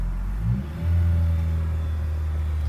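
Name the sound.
car engine revving in first gear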